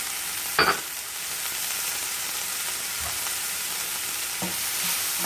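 Garlic and vegetables fry in a pan for a Greek omelet, a steady broadband sizzle filling the clip with a few brief clinks and stirring knocks scattered through it, close and moderately loud with no talking.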